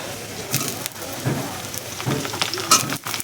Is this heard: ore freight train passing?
no